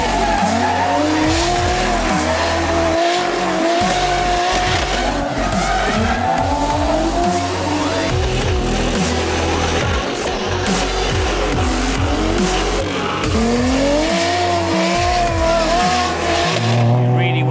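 A car drifting at Santa Pod, driven by Gautam Singhania, revs hard with repeated rising and falling engine sweeps and sustained tire squeal. The sound is loud and continuous throughout, with brief commentary voices underneath.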